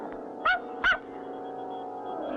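A cartoon puppy gives two quick, close barks in succession, short and sharp, with a low background hum continuing afterward.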